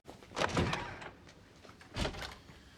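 A door is opened in a Buffy the Vampire Slayer episode, giving two soft, muffled thunks and scrapes about a second and a half apart with quiet room tone between and no talking.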